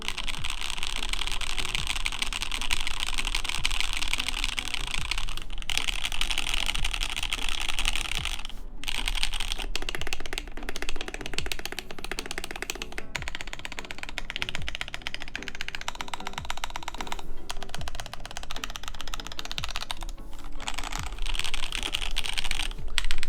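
Steady, continuous typing rattles on a mechanical keyboard fitted with Franken switches (Gateron black tops and stems with Zeal bottoms) and thin DCS-profile keycaps, dense close-up clacking with brief pauses and no talk.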